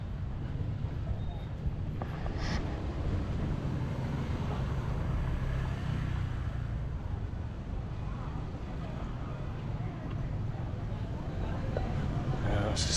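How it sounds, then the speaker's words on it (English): Scooter traffic on the streets of Malé, Maldives: a dense, continuous roadway rumble with engines droning and passing, heavy wind buffeting the microphone, and faint background voices. "Scooters everywhere"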